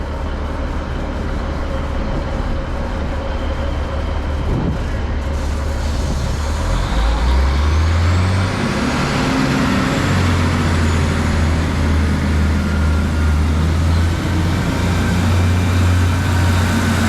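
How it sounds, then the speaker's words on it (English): A class 156 diesel train engine rumbles steadily at Bar Hill station, its low drone rising as it pulls away in the rain, with a faint rising whine and rain-like background hiss. "We'll see this train head out"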